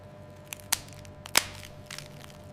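Freeze-dried Monthong durian pieces snap and crunch in a few sharp, crisp cracks, two of them louder, with quieter crackles between against a near-silent background.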